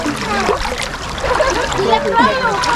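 Strong jet of water splashing and gushing at a winter pool or water park in Kosyno, Transcarpathia, a continuous close splatter with voices talking over it.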